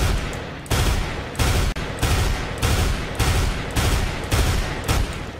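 A FAMAS rifle fires in burst mode in Counter-Strike: Global Offensive, with loud, close three-shot bursts repeating at a quick, regular rhythm and short gaps between them.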